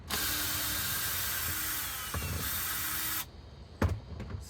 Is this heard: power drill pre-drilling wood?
yes